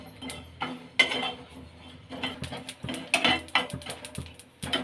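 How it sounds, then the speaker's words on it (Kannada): Cumin seeds dry-roasting in a pan while being stirred with a utensil, irregular scraping and clinking strokes against the metal at close range, coming in short uneven bursts with quiet gaps between them. "ಈಗ ಜೀರಿಗೆ ಹಾಕ್ಕೊಂಡು ಹುರ್ಕೊಳ್ಳೋಣ."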